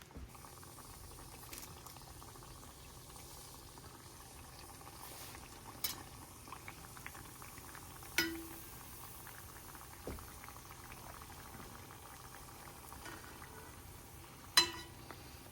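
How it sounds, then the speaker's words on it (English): Homemade doughnuts dropped a couple at a time into oil heated to 375 degrees, giving a steady low bubbling fry with a few sharp pops and clicks standing out along the way. "Let's go ahead and start dropping in our donuts."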